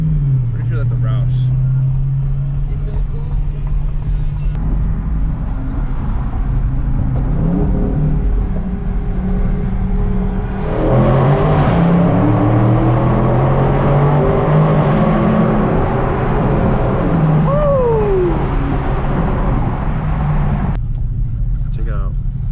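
A 2019 Dodge Challenger Scat Pack with aftermarket exhaust drives along a road near a parked Roush Mustang, its engine droning steadily and swelling as it accelerates past, heard from inside the car under someone talking.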